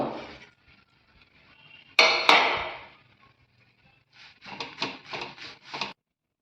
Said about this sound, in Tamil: இப்போ பாருங்கள் கருவேப்பிலை நம்ம எவ்வளோ போட்டிருந்தோம் இப்போ பாருங்கள் சுருங்கிடுச்சு அந்த கலகலன்னு ஒரு மாதிரி சத்தம் கேட்குன்னு வச்சுங்களேன்